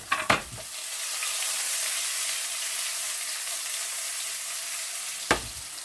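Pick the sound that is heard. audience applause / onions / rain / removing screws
onions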